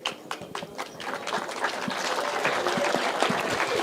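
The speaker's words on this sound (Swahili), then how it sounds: "Makofi jamani." A crowd of young people claps at a gathering at Rigathi Gachagua's Wamunyoro residence. Scattered claps at first quickly swell into fuller, sustained applause that holds steady to the end.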